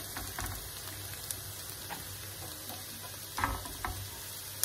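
Carrots sautéing in a pan on the stove until soft, giving a faint, steady sizzle broken by a few light clicks and scrapes of stirring, with no talking.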